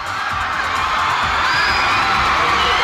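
Fans at an Eat Bulaga appearance scream and cheer continuously as Jessica Sanchez is called onto the stage, a dense, steady crowd roar throughout.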